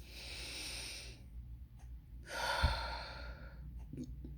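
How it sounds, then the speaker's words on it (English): A slow, deep breath drawn in and let out close to the mic, an airy inhale followed by a softer exhale, quiet and alone. "take a deep breath"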